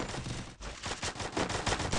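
Rapid automatic gunfire in the Free Fire battle royale game, with dense, loud bursts of shots that barely pause and a brief gap after the first half second.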